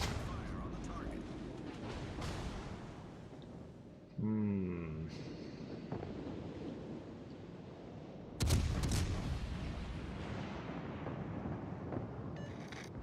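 Warship guns in World of Warships Legends firing amid constant battle rumble, with one sharp heavy salvo boom about two-thirds through and a softer report earlier, under background game noise and a distinct tonal alert sound.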